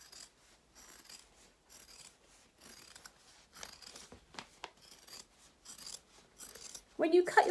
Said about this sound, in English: When you cut your fabric, you can choose to use your scissors